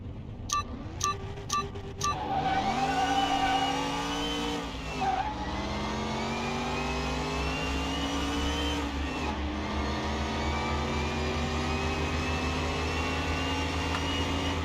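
BMW 3 Series fitted with a V8 racing in Car Mechanic Simulator 2021, opening with a few short clicks before the engine revs and climbs through gear changes, then settles into a sustained loud drone.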